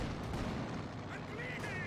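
Gunfire and artillery rumble in the World War II strategy game Company of Heroes 2, a dense, continuous low barrage heard faintly under game voice lines.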